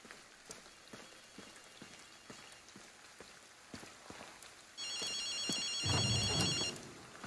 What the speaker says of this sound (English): I heard a phone ringing.